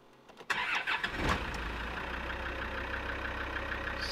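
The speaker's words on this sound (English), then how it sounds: "we'll turn the truck on and take it for a quick test drive" A Land Rover Discovery 2 with a TD5 diesel engine, abandoned and newly rescued, cranks briefly and fires into a rough rattle, then settles into a steady, close diesel idle.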